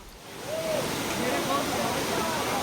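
A waterfall in the mountains near Saiful Malook lake in Naran gives a steady, loud broadband rush of falling water, close and continuous throughout, with faint voices underneath.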